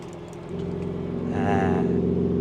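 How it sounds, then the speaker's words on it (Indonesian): A BMW M3 E46 idling with its exhaust valve open, a steady, deep droning engine note that grows slightly louder and fuller partway through, heard close and alone. "Kita buka valve-nya. Kalian dengerin bedanya."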